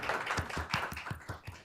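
A short round of clapping at a city council meeting, faint and somewhat sparse, with separate claps landing in a loose rhythm for a second or two.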